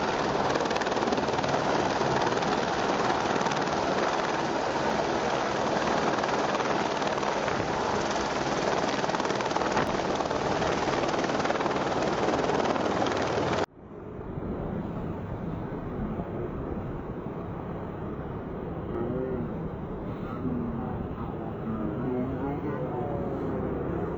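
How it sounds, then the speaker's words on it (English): A loud, steady firefighting helicopter rotor roar throughout, abruptly cutting to a duller, more muffled drone partway through. "this firefighting helicopter pilot just received a new assignment."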